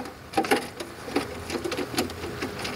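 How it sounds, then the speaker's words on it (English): GSX NexGen bowling pinsetter machinery cycles with a busy mechanical clatter, rapid rattling and ticking bursts at a moderate distance. "Pin setters are turning on and cycling."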